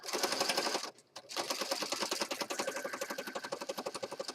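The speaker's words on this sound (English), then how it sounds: "now I'm just going to stitch it right here." A sewing machine stitches through a paper journal page with a fast, rhythmic run of needle clicks that steadies into distinct even pulses. A brief pause comes near the start, and the machine plays close and clear without talk.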